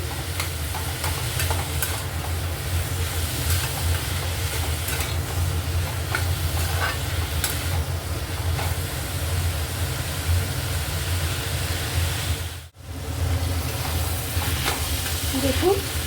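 Finely sliced bottle gourd peel fries in a pan for a Bengali vegetarian curry, with a loud continuous sizzle and stirring throughout, broken by one short cut-out near the end.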